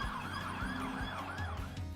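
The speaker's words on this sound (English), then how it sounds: "Both came with a full copload of sirens and lights, which we almost never switched off." A police pursuit car's siren wails steadily, close and loud, its rising and falling tone repeating every half second or so over a low engine rumble.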